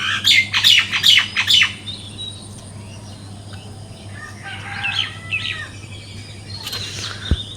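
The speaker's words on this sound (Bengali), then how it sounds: "আমাদের সকালটাই শুরু হয় পাখির কিচিমিচি ডাক" Birds calling in a village in the morning, with a burst of loud, close squawking chirps at the start, then softer scattered calls and a rooster-like cry further off over a low steady hum.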